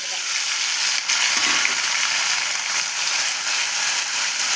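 Chopped tomatoes hit hot oil with curry leaves for a home-style rasam, giving a loud, continuous hissing sizzle that holds steady for several seconds.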